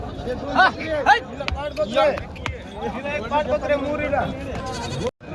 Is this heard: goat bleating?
yes